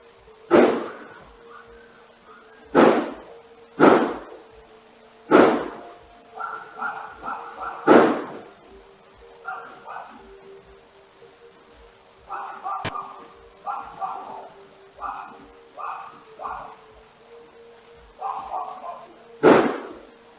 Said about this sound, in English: You can't see anything in the video, but you can hear several loud bangs.